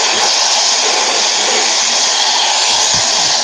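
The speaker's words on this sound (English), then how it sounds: "Sounds like a hairdryer" A steady, loud broadband whoosh like a hair dryer running continuously, with a constant airy hiss throughout.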